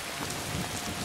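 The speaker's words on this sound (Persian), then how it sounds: "بیرون هوا سرده، بارون میاد" Steady rain falling outdoors on a cold night, a soft, even hiss of drops with no voices, faint and continuous throughout.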